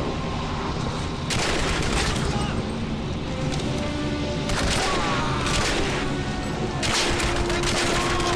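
Gunfire from the PC shooter Turning Point: Fall of Liberty, dense bursts of shots and booms over a continuous loud game soundscape, with heavier volleys recurring every few seconds.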